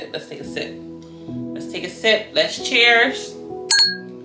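Glasses clink together in a toast with a couple of bright, quick chinks near the end, following a stretch of talking and soft handling sounds.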